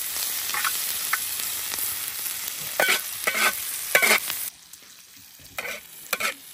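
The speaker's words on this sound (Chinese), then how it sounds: "大伯炒菜都喜欢这样，把菜压到锅铲下面摩擦" Green peppers stir-fried in a wok, pressed and scraped under a spatula: steady close sizzling broken by bursts of scraping and stirring, with a quieter stretch near the end before a few more scrapes.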